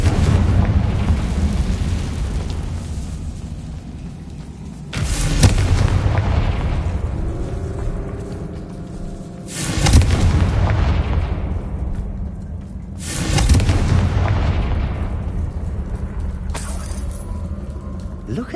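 Bombarda and Confringo spell explosions in Hogwarts Legacy go off as four loud booming blasts a few seconds apart, each followed by a long rumbling decay over a steady low background.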